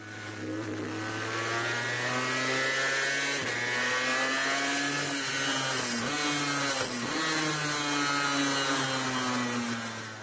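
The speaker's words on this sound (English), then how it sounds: "Let's move on to the Honda NSR250R from the 90s." A 1990s Honda NSR250R with a two-stroke V-twin engine runs at a steady high buzzing pitch, dipping and rising with throttle changes, loud and continuous with no talking.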